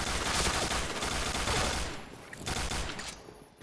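A Famas G2 rifle in the video game Point Blank fires dense, loud rapid bursts that run almost continuously for two seconds, then drop briefly before another burst.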